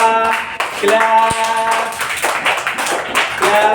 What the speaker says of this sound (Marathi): चला स्वतःसाठी एकदा जोरदार टाळ्या होऊ द्या